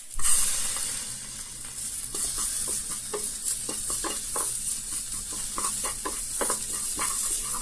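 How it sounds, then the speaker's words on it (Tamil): Onions fry with ginger garlic paste in a pan, giving a loud, steady sizzle with scraping stirring strokes scattered through it, close up and with no talking. "வெங்காயம் கொஞ்சம் வதங்கின பிறகு ஒரு டேபிள் ஸ்பூன் இஞ்சி பூண்டு விழுது ஆட் பண்ணிக்கோங்க"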